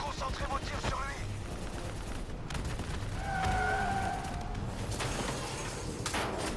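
Gunfire in the video game Call of Duty: Black Ops III, bursts of shots and impacts amid a dense, noisy battle mix, with a few tonal effect sounds in the middle.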